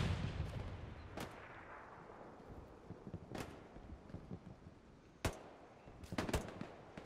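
Distant gunfire in the World War II shooter Hell Let Loose: scattered single shots crack out at irregular intervals, some quick pairs and triples, over a low rumbling wind-like bed of battlefield ambience.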